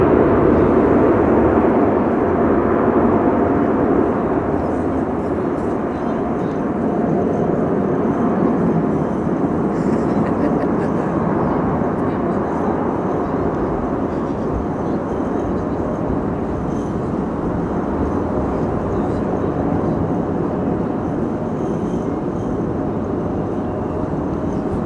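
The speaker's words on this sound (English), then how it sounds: "Can we get some reverser action, please?" At Amsterdam Schiphol during high winds, a landing airliner's thrust reversers make a loud, broad roar that sustains throughout and eases slightly later on, mixed with gusty wind noise.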